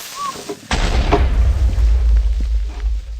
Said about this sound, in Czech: creeper udělá bum!